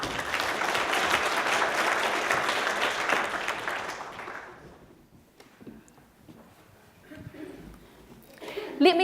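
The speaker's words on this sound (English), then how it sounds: "Let's give a big round of applause to the Marlborough Readers and Writers Charitable Trust." Applause from the audience at a community awards ceremony swells strongly, then fades to scattered claps and quiet room noise before a voice returns near the end.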